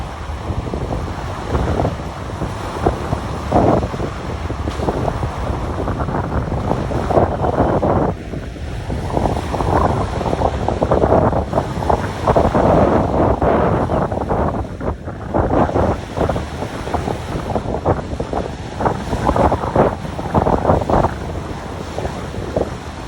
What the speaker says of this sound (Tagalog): pag ganito na malakas ang alon